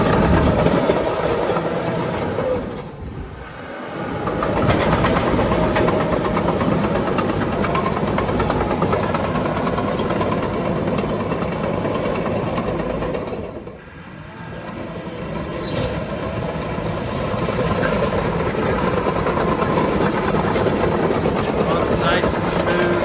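A 2019 John Deere 700K LGP dozer with a hydrostatic transmission runs after starting. Its engine gives a loud, continuous diesel rumble that dips briefly twice and then steadies.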